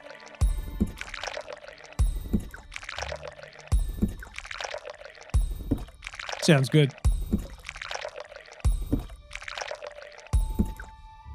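Beer being poured into mugs in the cozy tavern game Rekindled, a series of short liquid pouring sounds repeating at a steady rhythm, each a brief splashy fill, with people talking over them.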